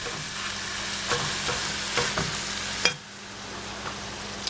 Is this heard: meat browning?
yes